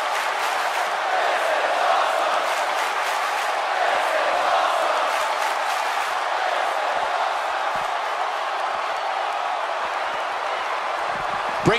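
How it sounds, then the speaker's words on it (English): An arena crowd roars continuously in WWE 2K18 during a Rob Van Dam match, a dense, steady wash of cheering that holds evenly from start to finish. "The crowd absolutely loves Rob Van Dam"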